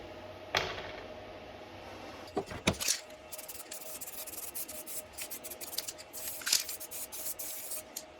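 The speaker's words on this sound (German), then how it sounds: "mit viel Polieren kann man dieses Rub and Buff schon ganz schön zum Glänzen bringen" Rub 'n Buff wax finish being polished by hand onto a homemade Star Wars bounty hunter cosplay voice changer, giving steady close rubbing and scrubbing strokes with a few sharper scrapes, no voices.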